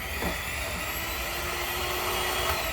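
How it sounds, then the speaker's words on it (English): An electric hand mixer whirs steadily as it beats cake batter for a birthday cake, a continuous motor drone held at an even level from start to finish with no talking. "I'm going to use the mixer, and I'm going to mix all of that up"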